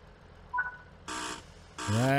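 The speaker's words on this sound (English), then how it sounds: "There's the buzzer." A ScotRail Class 158 train door buzzer in Train Sim World 4 sounds as a short tone in a quiet cab, followed by rising engine or traction hum as the train pulls away.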